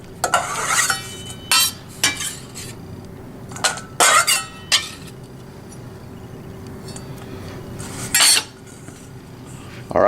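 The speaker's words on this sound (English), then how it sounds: "now the garlic just gets chopped up really quick, just kind of a rough chop" Garlic roughly chopped with a knife on a board for a beer chicken marinade: short bursts of sharp, close knocks and scrapes in scattered clusters, with quiet pauses between, no talk.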